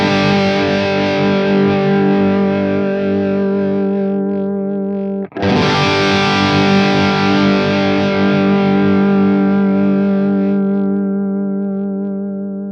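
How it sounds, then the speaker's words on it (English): Heavily distorted electric guitar chords through a Line 6 Helix with a software amp simulator and impulse response sustain and ring out, broken by a brief cut, then another thick, amp-toned chord slowly fades. "let's hear what it sounds like with an ampsim and impulse response module"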